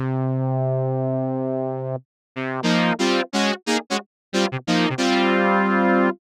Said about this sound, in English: you could take one of them, change it from a sawtooth to a pulse wave,